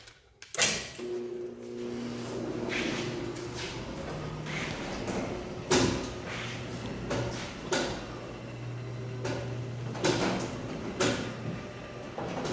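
A large residential garage door runs on its opener, a sustained motor hum with a low drone, broken by repeated clunks and rattles from the panels and rollers as the door travels.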